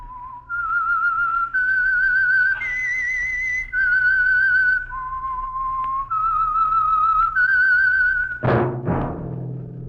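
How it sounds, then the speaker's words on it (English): The Whistler radio theme is whistled alone: a clear, eerie melodic line of sustained notes rising and falling over about eight seconds, ending with a sharp orchestral sting. "That whistle is your signal for the Signal Oil Program, The Whistler."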